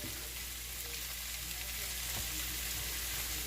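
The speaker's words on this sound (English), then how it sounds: "And I'm just going to be frying this up." Steady, close sizzling of food frying in a pan over medium heat for turkey quinoa chili, a continuous crackling hiss with a faint low hum beneath it.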